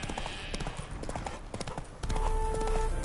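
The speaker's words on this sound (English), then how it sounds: "Spooking my horse." Horse hooves clip-clop at a steady trot in The Witcher 3, loud and near, over game ambience, with a sustained musical tone entering in the final second.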